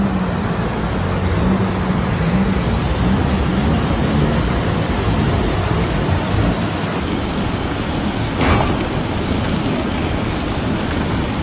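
Floodwater from a mudflow rushes loudly and continuously, a dense roaring wash that fills the scene with no voices over it.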